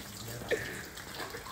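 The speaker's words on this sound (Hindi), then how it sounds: "बिल्कुल बदतमीजों वाले तरीके से पानी फेंक रहे" Water is splashed onto a motorcycle during a wash, a broad wet rush with a brief sharper splash partway through, close by and steady, with faint voices in the background.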